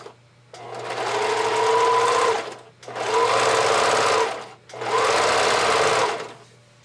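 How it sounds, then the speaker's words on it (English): A sewing machine runs a medium-width zigzag stitch to baste elastic band onto a bra, three loud, close bursts of steady humming stitching, each about two seconds, separated by brief pauses. "I'm going to use just a regular medium width zigzag stitch to baste it onto the right side of my bra."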